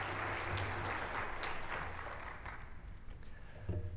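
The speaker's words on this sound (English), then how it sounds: "if we could give the staff and board a round of applause" An audience at an annual conference business meeting gives a round of applause, a steady, moderately distant clapping that thins out slightly toward the end.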